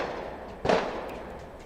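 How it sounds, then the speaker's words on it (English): A single firework bursts with a sharp, moderately loud bang partway through, then fades into a low background hum. "That's fireworks."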